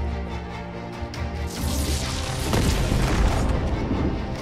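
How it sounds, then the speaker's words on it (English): A house being blown apart by an explosion in a video game: a heavy, booming blast that swells into a rumbling crash and debris roar, sustained and loud across several seconds. "I destroyed a house."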